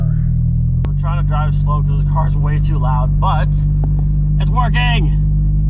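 A loud MK2 Jetta with its exhaust fallen off drives along, its steady, heavy low rumble droning throughout while a person talks over it.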